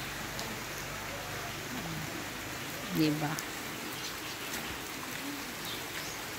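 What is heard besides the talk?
rain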